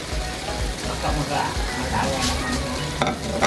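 Spicy laing with chili being stirred in a sizzling pan, a steady close hiss of frying under scraping spoon strokes, with a voice speaking briefly over it.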